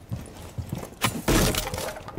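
Glass shattering in a video game, a short sharp burst of breaking and tinkling shards after quieter scuffing sounds, fairly close.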